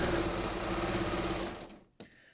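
A serger sewing machine chaining off with no fabric under the needles, running in a steady, fast whirring hum that cuts off abruptly, followed by a brief click.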